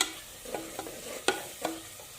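Minced meat keema with masala frying in a pan, a steady soft sizzle broken by several light stirring scrapes and taps of a spoon, close and quiet, no voices.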